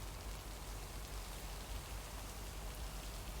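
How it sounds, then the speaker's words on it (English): Steady rain pours in the lakeside video game Lake, a dense continuous hiss of drops on surfaces with a low rumbling undertone, unbroken and without voices. "Actually, I wanna listen to the rain now."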